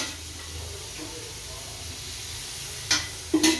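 Chopped onion fries in a kadhai, a steady soft sizzle and hiss that holds throughout, broken near the end by a couple of sharp scraping clicks from the spatula.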